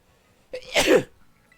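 A single sharp sneeze close by, a quick breathy burst that rises and fades within a second, surrounded by quiet.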